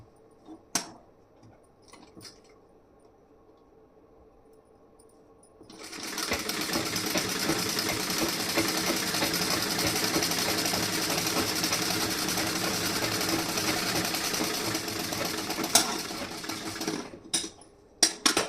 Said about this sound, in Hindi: अब यहाँ पे एक सिलाई में लगाऊंगी।